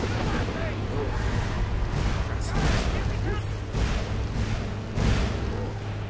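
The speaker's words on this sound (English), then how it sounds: "There's explosions everywhere." Rumbling explosions and booming blasts in the video game Skyrim during a dragon fight with Alduin, dense and continuous with several louder bursts, mixed with game sound and a voice talking over it.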